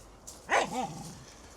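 A dog barks near a fishing lake, giving one clear bark followed by a shorter yelping tail, close and fairly loud against a quiet outdoor background.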